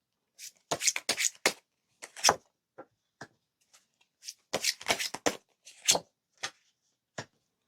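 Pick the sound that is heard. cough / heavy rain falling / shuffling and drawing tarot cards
shuffling and drawing tarot cards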